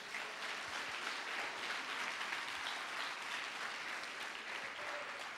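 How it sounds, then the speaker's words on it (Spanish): Congregation in a Spanish-language church service applauding, a faint, distant and even patter of many hands clapping that holds steady throughout. "dele un fuerte aplauso al Señor"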